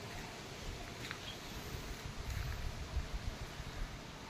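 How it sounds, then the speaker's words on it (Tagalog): Strong wind gusts steadily ahead of a typhoon, a constant rushing roar with low rumbling buffets against the microphone and no voices. "malakas na yung hangin"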